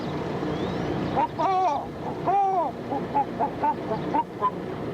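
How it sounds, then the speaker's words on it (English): Wild birds calling near a canal in a jungle setting, a string of short honking, goose-like calls over a steady background hum, some louder and closer, with no talk. "You can hear the wild birds and animals."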